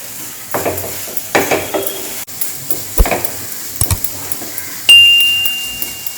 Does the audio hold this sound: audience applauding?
no